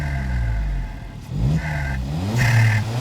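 A stage 1 tuned VW Scirocco GT engine revs hard and then drops off as the throttle is let go, repeating a couple of times with crackly, popping pitch swings.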